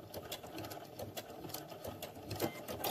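A sewing machine stitches a quarter-inch seam on a scrappy quilt-as-you-go block and briefly back stitches, a soft, fast, even chatter of needle strokes close by with no voices over it.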